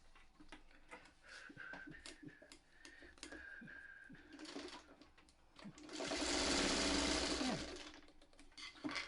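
A sewing machine stitches the last seam of a 9-patch quilt, starting with short bursts of rapid needle clatter and then running in a louder, steady whir, close up with no voices.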